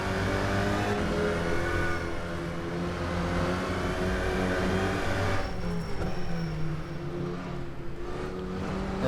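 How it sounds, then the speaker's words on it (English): Alpine GT4 race car engine in a racing video game at Monaco, a steady loud engine drone with shifting pitch and revs throughout, mid-race, with no talking. "this little Alpine car is producing some good fun racing, even at Monaco"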